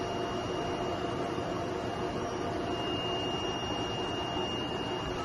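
A DTF printer runs a print head cleaning cycle, giving a steady, faint mechanical whir with thin high tones held throughout.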